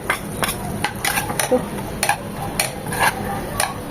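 Chopped garlic fries in butter in a pan for Korean fried chicken sauce, heard as a soft sizzle under quick, close clinks and scrapes of a spoon stirring against the metal.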